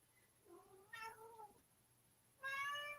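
A cat meows several times in quick succession, drawn-out, fairly close calls with short pauses between them, the last one louder and more sustained.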